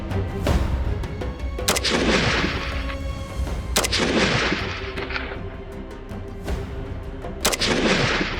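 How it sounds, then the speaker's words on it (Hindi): A heavy weapon fires in a live military demonstration outdoors: three loud booming shots spaced a few seconds apart, each with a long echoing rumble, and no talking over them. "ये तो सर वेपन्स हो गए, इनको जरा चलाते हुए भी दिखाए ना सर, एक लाइव डेमो हो जाए थोड़ा।"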